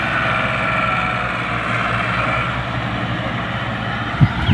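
A Ford 3610 tractor engine pulls a fully loaded trolley with a loud, steady, low diesel drone that holds constant throughout, close by, with a brief knock near the end.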